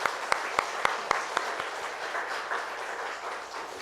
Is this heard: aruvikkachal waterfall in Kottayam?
no